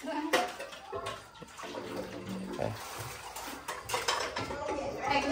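Water runs from a bathroom tap in a Vietnamese home, splashing and gurgling unevenly over several seconds, with faint clinks and household noise mixed in.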